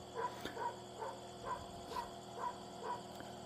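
A dog barks at night on a mountain, seven evenly spaced faint yips carried from a distance over a low hum of night ambience.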